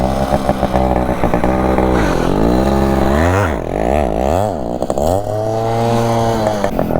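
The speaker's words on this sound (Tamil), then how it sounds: "கிளச்சையும் முடிச்சுட்டு த்ராட்லையும் கொடுத்துட்டு வண்டி இழுங்க." A motorcycle being revved hard for a wheelie stunt. The engine roars loud and close throughout, climbing and dropping in pitch through repeated throttle blips.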